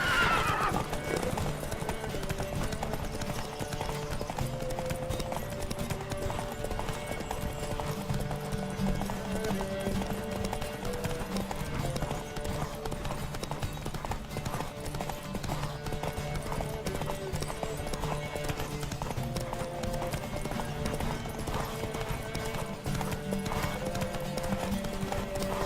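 Horses gallop in a race in The Witcher 3, steady clip-clop hoofbeats running throughout with repeated whinnies and neighs over a faint game score, moderately quiet and continuous.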